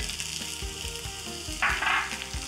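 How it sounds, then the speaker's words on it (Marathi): Sabudana khichdi with potato, crushed roasted peanuts and salt is stir-fried in an uncovered pan, a constant crackling sizzle broken by rhythmic soft scrapes of the spatula and a brief louder burst of frying. "करूयात मिक्स आणि झाकण न ठेवता ही खिचडी छान अशी परतून घेऊ"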